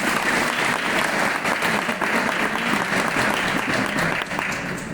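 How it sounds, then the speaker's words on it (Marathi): Students in a hall give loud applause during a guidance talk, thick sustained clapping with a busy, crackling texture that carries on steadily throughout. "त्या सगळ्यांसाठी एकदा जोरदार टाळ्या होत्या"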